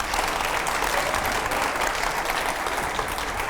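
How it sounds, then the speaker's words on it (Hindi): Studio audience applause during a rapid-fire political interview segment, a steady wash of many hands clapping at moderate level with no break, fairly distant and even throughout. "जोरदार तालियां हो जाए।"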